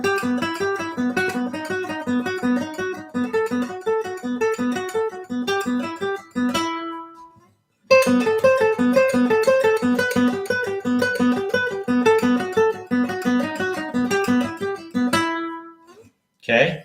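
A Spanish classical guitar plays a beginner exercise on the second string, with a steady run of plucked notes that rings out, pauses briefly, then resumes for a second pass ending in a sustained tail.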